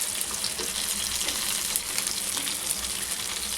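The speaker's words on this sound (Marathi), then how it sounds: "सेकंड बॅच जे होते हे बघा मस्त फ्राय होत आहेत" Bombil, Bombay duck fish, frying crisp in a pan over high heat, a steady dense sizzle with spitting crackle running continuously and close, no voices.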